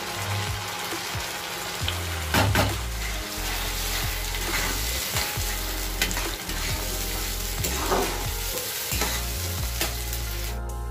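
Ginger garlic paste frying and being stirred in a hot pan, a steady close sizzle with scraping stir strokes and brief splashy bursts, no voices.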